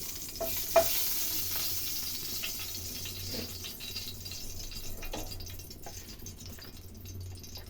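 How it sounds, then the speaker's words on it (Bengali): Cumin seeds fry in hot oil for a rohu fish curry, a steady close sizzle with a sharp stir or clink near the start and light scraping throughout, no voices. "জিরে জিরেটা ভাজা আমার হয়ে গেছে"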